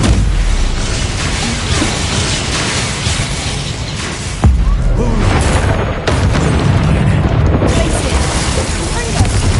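Loud, continuous booming blasts of the Expulso explosion spell in the wizarding game Hogwarts Legacy, with rumbling bursts, a sharp jolt midway and dense layered noise throughout, and a voice speaking over the din.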